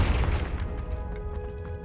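A Confringo fire spell explodes in Hogwarts Legacy, opening as a loud low boom at the start that fades into a rumbling, crackling tail with a few small pops, with no talking.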